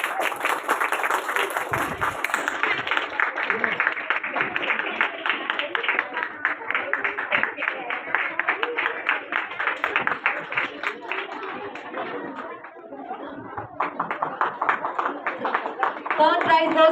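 Sustained clapping from an audience at a school felicitation ceremony honouring phonics and spelling bee prize winners, continuous and fairly even for most of the stretch, dipping briefly before picking up again.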